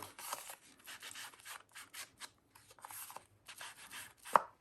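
An ink pad or blending tool rubs repeatedly along the edge of cardstock in quick, dry scuffing strokes, close and fairly quiet, ending with one sharper tap.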